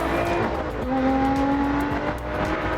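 Lotus sports car accelerating hard from a green light, a loud, close engine roar with rising tones that climb, drop at a gear change and climb again, with no talk.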